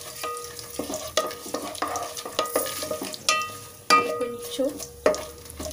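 Whole spices and shahi jeera frying in hot oil for a coconut milk biryani, with a steady sizzle broken by repeated stirring scrapes and clinks of a spoon against the pan, while someone talks close by.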